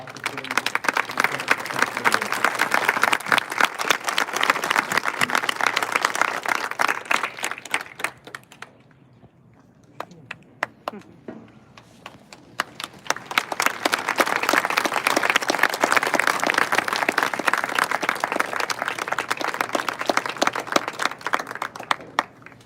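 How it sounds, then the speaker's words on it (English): Audience applause fills an NHS induction ceremony hall in two sustained bursts of dense clapping, separated by a brief quieter lull in the middle. "One more round of applause, please, for our fantastic advisors."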